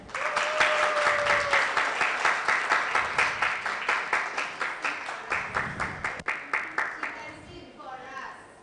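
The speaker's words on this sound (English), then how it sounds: "Let's all clap for Bridget again." Audience at a 2021 academy graduation ceremony applauding, a loud, dense burst of clapping that holds steady and then thins into scattered individual claps, with a brief tone near the start and voices murmuring toward the end.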